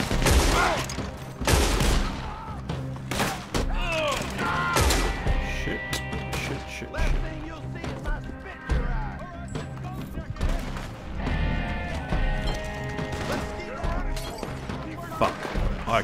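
Repeated rifle shots crack through a Red Dead Redemption 2 online gunfight, with scattered reports and impacts over a dense game mix while players talk throughout.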